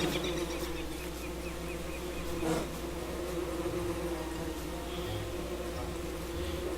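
Steady insect buzzing from bees swarming in the survival video game Don't Starve: Reign of Giants, a continuous droning hum with faint background game sounds throughout.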